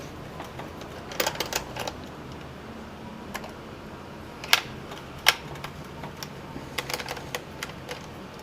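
Small screws being taken out of a Dell Inspiron 1525 laptop that has had beer spilled on it: scattered sharp ticks and clicks of the screwdriver and metal parts, close and fairly quiet, with no talking.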